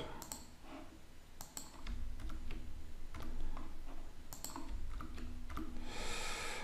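Keys are pressed on a computer keyboard for an Alt+Enter shortcut, a scattering of sharp, close clicks in small clusters over a low background hum.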